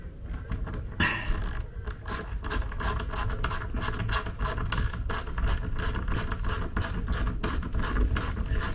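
A Leatherman multitool ratchet driver with a flat bit turning screws into awl-made pilot holes, giving quick repeated ratcheting clicks in a steady rhythm, close up and without speech.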